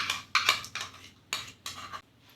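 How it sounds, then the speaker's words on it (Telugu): A spoon clinks and scrapes against a bowl in several short bursts while curd is added to a henna mix, the taps close and distinct with brief pauses between them. "ఇప్పుడు ఇది ఎలా మిక్స్ చేయాలో చూపిస్తాను. కర్డ్ వేస్తున్నానండి,"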